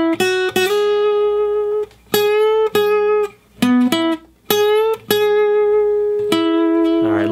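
Guitar playing the opening lines of a song, single notes and strummed chords ringing in short phrases with brief pauses between them, close and clear.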